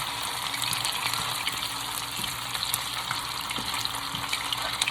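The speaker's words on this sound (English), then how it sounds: "Just flip them and keep them moving, and they'll fry just like you want them to" Vegetables and tofu sizzle and crackle in hot oil in a stir-fry pan, a dense steady frying hiss broken by small pops and scraping clinks as the food is flipped and kept moving, close and unbroken.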